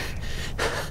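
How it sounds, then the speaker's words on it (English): A game character in ARK: Survival Evolved breathes out in a short, close gasp followed by a harsher panting breath, heard alone. "now he's all panting"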